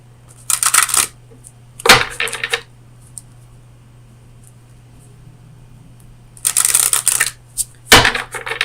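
Oracle of Visions deck cards being shuffled and drawn, coming as two paired bursts of crisp riffling flutter separated by a quiet pause, close and fairly loud over a steady low hum.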